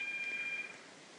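A telephone rings indoors during a Zelda Oracle of Seasons game session, a short high electronic trill that sounds once and then cuts off, faint and alone.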